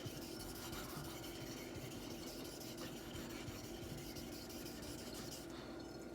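A Wade & Butcher straight razor stroked across a 400-grit Atoma diamond plate, giving a steady, faint, continuous rasping scrape at close range and no voices.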